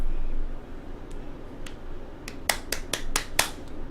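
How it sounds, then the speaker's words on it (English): A child claps hands during a practice session, a few soft claps followed by a quicker run of five or six sharp, close claps in a quiet room. "Yeah, that's clap hands"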